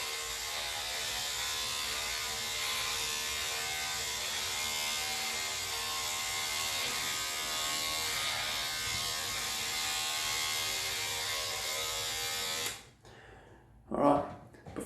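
An electric razor buzzes steadily up close as it shaves pre-wet hair, a continuous drone that cuts off near the end before a brief faint sound.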